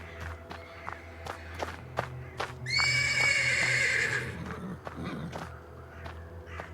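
Horse in stables in the video game Black Book gives a loud, drawn-out whinny lasting over a second, with clip-clopping hooves and shuffling steps before and after.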